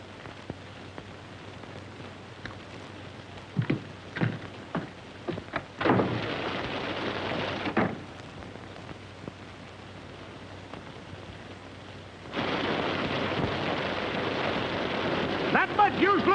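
Rain from a thunderstorm hisses steadily in a 1939 Western film scene, with several sharp crackles and bursts and a heavier surge of rain near the end, moderately loud with no talk.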